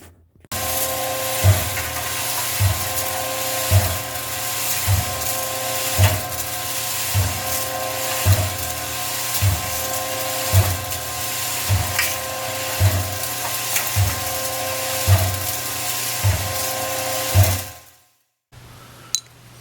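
Cement mixer tumbling aluminum parts with a small paddle inside, giving a loud continuous grinding churn with a regular thump about every 1.2 seconds, then stopping abruptly near the end.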